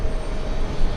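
A Royal Air Maroc airplane at JFK airport, a continuous low, heavy engine roar, steady and fairly loud for a short moment with no voices.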